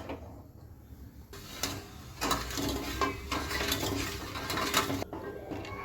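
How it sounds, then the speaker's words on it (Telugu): Metal spoon scraping and clinking against a pot as soaked sugar melts on a lit stove, irregular knocks and stirring scrapes at close range, moderately loud, with a soft hiss behind. "స్టవ్ వెలిగించి నానబెట్టిన చక్కెర స్టవ్ పైన పెట్టుకొని కరిగించుకోవాలి."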